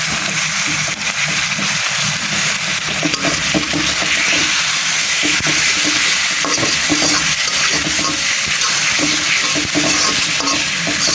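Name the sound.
onion, garlic and ginger paste frying with spices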